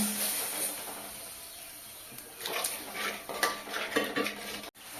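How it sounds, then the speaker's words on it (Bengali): Spice paste with chilli and cumin powder being stirred and sautéed in a pan with a splash of water, making a hissing sizzle at first, then close, busy spoon scrapes and clinks against the pot. "একটু সামান্য জল দিয়ে মশলাটাকে আবারও ভালোভাবে কষিয়ে নেব"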